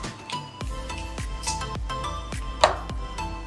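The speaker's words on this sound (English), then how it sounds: "Give it another whisk." A fork whisking a raw lamb's brain mixture in a bowl: quick, regular clicking and tapping strokes against the dish, close and distinct, with one sharper clink, no talk.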